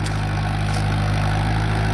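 Old-model Mahindra Sarpanch 475 DI tractor running in first gear high range, a loud, steady diesel engine drone close by with a deep throbbing hum throughout.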